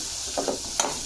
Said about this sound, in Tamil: நல்லா வதங்கட்டும்.